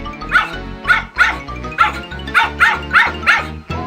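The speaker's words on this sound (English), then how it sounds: "Then a dog sees the gingerbread man." A dog in a children's Gingerbread Man story recording barks repeatedly in a steady run of about eight loud, close barks over a low music bed.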